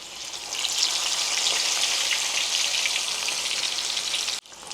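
Flour-dusted turkey pieces for Haitian fried turkey sizzle in hot oil with a dense, even hiss that holds steady and then cuts off abruptly near the end. No voices are heard.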